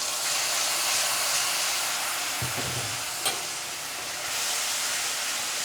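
Spice paste thinned with water sizzles loudly in hot oil, a continuous close hiss that dips briefly near the end before swelling again, with a single soft clink and no voices.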